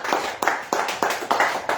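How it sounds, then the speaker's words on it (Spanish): A congregation in a church claps for Christ, a quick run of about eight bright, close, evenly spaced claps with a little hollow room ring after each. "Den un aplauso a Cristo"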